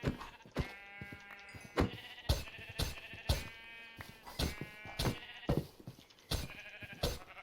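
Repeated sheep bleats from the video game RLcraft ring out over a steady synthetic backdrop, coming every second or so, clear and close, with no talking.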